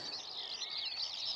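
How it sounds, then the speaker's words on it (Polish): Faint high bird trills over a green meadow, rapid chirping phrases repeating continuously at a distance with no voices. "pieszczone ptasimi trylami"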